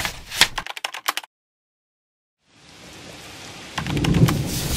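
Thunder and rain sound effect: a burst of crackling rain and sharp cracks, then a second of silence, then steady hiss of rain building into a low rolling thunder rumble near the end.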